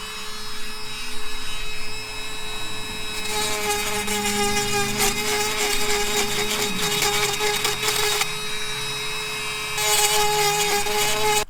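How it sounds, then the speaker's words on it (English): A Dremel rotary tool grinds down the stems on Ford F150 emblems, a high steady whir running throughout with rougher scraping bursts in the middle as the bit bears on the part, close up with no speech. "I'm going to use this Dremel bit."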